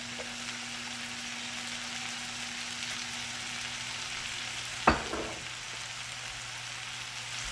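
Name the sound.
olive oil frying in a pan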